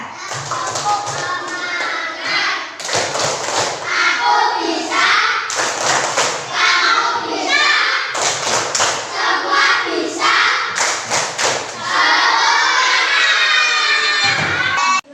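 Schoolchildren in a classroom perform a rhythmic spirit clap, sharp bursts of group clapping in a patterned beat alternating with chanted voices and shouts.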